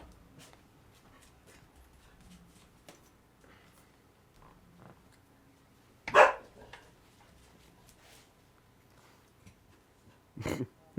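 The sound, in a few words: dog barking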